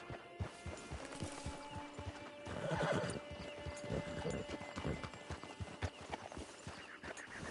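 Horse hooves clip-clop in a steady trot in Red Dead Redemption 2, with a whinny partway through and ambient game sound underneath.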